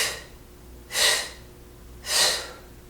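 Two sharp, breathy inhalations during a Pilates-plus-yoga class, each about half a second long and roughly a second apart, close and fairly loud over a quiet room.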